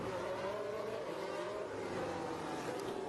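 A Formula 1 car runs during first practice at the 2021 Mexico Grand Prix, its engine a steady, sustained high-pitched drone with little change in level, heard without any voices over it.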